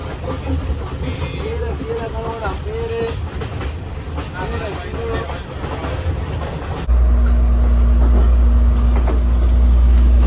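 A train rumbles along the rail in Sri Lanka's hill country toward Hatton, with clickety-clack and rattling carriage noise, voices talking over it, then a louder, steady low roar.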